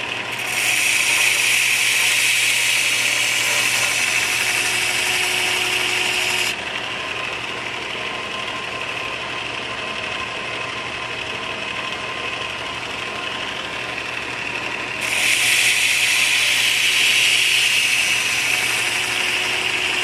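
A 220 grit grinder wheel on a 1/2 horsepower motor hums steadily while a Phrobis M9 bayonet blade is passed across it, with two stretches of hissing grinding contact separated by a quieter spinning interval, close and loud.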